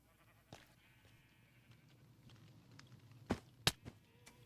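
Sheep in the Minecraft video game bleat in a few short, faint calls scattered over a quiet background, with a couple of sharper louder bleats near the end.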